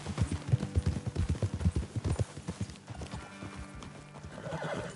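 Horses in the Red Dead Redemption 2 video game clop along with rhythmic hoofbeats close by, then a horse whinnies as the hooves fade, leaving low ambient outdoor sound.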